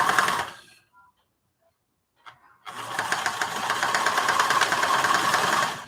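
A sewing machine stitches a project bag, with a brief burst that stops, a near-silent pause with small clicks, then a steady whirring run of rapid stitching that stays loud and close to the end, no speech.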